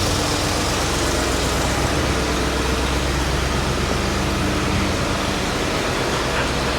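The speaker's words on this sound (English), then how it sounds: "Sounds like my idle's up a little bit high." A 1966 Ford Thunderbird V8 idles steadily, a little high, with a constant low rumble and broadband noise and no pauses throughout.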